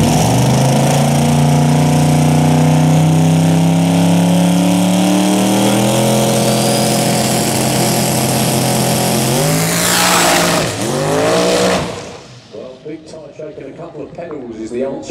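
A Pro Doorslammer drag car roars down the quarter mile at Santa Pod Raceway, a loud engine whose pitch climbs and swoops through gear changes before cutting off, followed by fainter distant engine noise.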